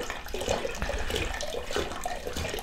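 Water flows steadily through a siphon hose drained from a WaterBob bathtub storage container, a continuous rushing, splashing stream with no talk.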